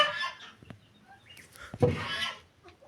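Goose honking in a farmyard brood setting, with a few short calls and peeps among goslings, one louder harsh honk near the end; close and alone without talk.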